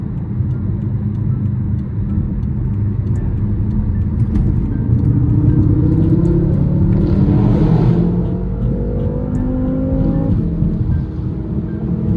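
A BMW M6 or Audi RS7 rumbling in traffic, with a deep continuous engine drone that swells and rises in pitch around the middle before easing off, heard from inside the cabin.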